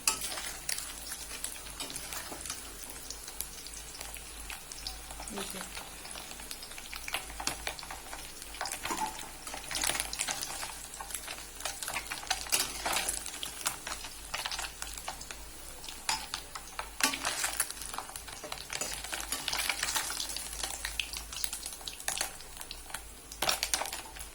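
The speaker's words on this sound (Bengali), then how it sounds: "মাছ ভাজার তেলে পেঁয়াজ কুচি দিয়ে দিচ্ছি।" Sliced onions go into hot oil left from frying small puti fish, giving a soft continuous sizzle with occasional stirring scrapes and clicks of a utensil, faint and steady with no voices.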